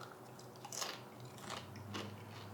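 Crunchy cooked bacon bitten and chewed after cooking on an emergency stove, three crisp crunching bursts close up over a faint steady hum, no talking.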